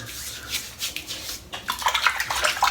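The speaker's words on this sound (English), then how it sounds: "Let me just get a bit of water in there, a bit of moisture." Water splashes and trickles onto a head being prepared for a razor shave, a close, uneven wet rubbing and dribbling that grows busier toward the end, with no talk.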